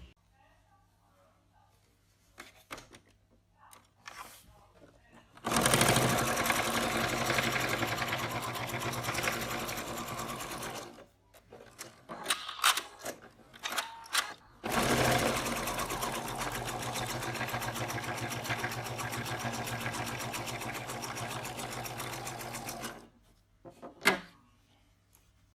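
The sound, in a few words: sewing machine sewing a basting stitch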